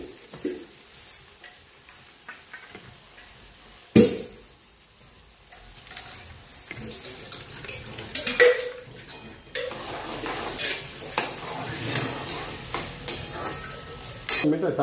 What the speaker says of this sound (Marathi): नंतर कांदा टाकून घ्यायचा आहे. हिरवी मिरची टाकायची.